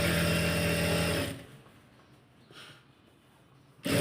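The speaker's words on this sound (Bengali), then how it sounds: "তো আমি একটা পার্ট আপনাদেরকে সেলাই করে দেখিয়ে দিব" A sewing machine stitching a petticoat runs loud and steady for just over a second, then stops, leaving quiet room noise before it starts up again at the very end, with no talking.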